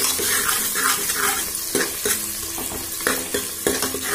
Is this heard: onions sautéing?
yes